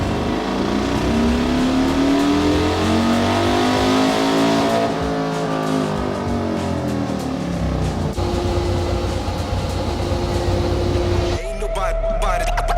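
A stock Harley-Davidson engine on a dyno revs hard, its loud throbbing roar climbing and falling in pitch through several sweeps, then settling into a steadier drone before a sharp change near the end.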